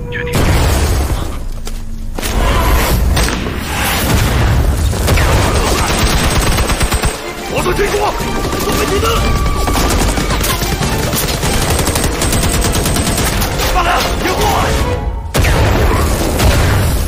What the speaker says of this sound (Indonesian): Pang Jiang pun melemparkan granat agar para teroris itu bergerak.